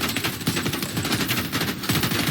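Rapid gunfire rattles steadily through a busy video game battle with a heavy armored medic tank build, shots landing in a dense continuous barrage with no pauses and no voices.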